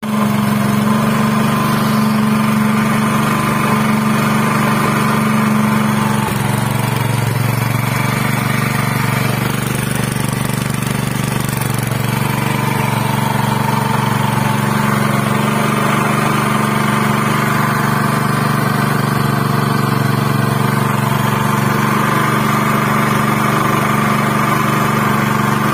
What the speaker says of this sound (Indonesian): Kita akan coba bunyikan mesinnya ya, udah bisa bunyi apa belum ya teman-teman.